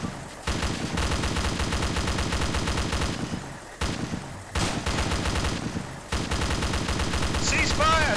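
Automatic rifle fire in the ArmA II military game rattles in long sustained bursts with brief pauses between them, loud and dense throughout, with faint shouted voices mixed in.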